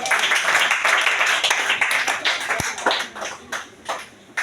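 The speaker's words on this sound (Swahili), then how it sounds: "Pigie Yesu makofi." A church congregation claps for Jesus, a loud, dense burst of many hands at close range that fades unevenly toward the end.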